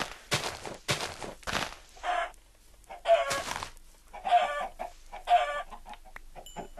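Short bursts of chicken clucking in Minecraft repeat at a steady pace, each clip-like and clean, separated by brief silences, with a few louder rustling hits early on.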